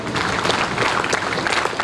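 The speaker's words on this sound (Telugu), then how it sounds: "ఈ చప్పట్లు సరిపోవు మీ సార్కి, గట్టిగా పైకొండ చప్పట్లు కొట్టారు" Steady applause from a crowd at a police parade ground World Girl Child Day event, dense and continuous clapping throughout with no pauses.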